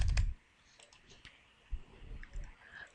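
A few quiet, scattered clicks and taps on a computer keyboard while an amount is entered into a payroll program, irregular and close with soft thumps between.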